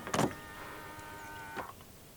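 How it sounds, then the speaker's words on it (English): Keyless locking of a 2015 Hyundai Santa Fe 2.2 CRDi 4WD by its door-handle button: a sharp close click, then a steady electric motor whir for over a second, ending in a second soft thunk. "To lock the car, press the black button on any of the front door handles."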